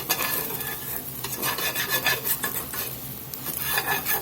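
Ground beef with blackening seasoning for a Louisiana hamburger soup being stirred and broken up in a pot, a close, continuous scraping and rasping of the utensil over a faint sizzle.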